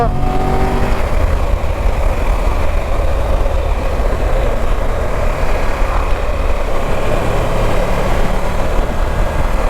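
Triumph Tiger 1200 GT Pro Explorer motorcycle engine pulling steadily under acceleration on a road near Vézelay, a sustained close engine drone with a rising tone at the start.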